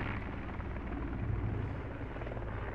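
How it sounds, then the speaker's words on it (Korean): Steady, rumbling rotor thump of a helicopter flying overhead in a Korean film scene. The sound is continuous and moderately loud, with no talk over it. "헬기네."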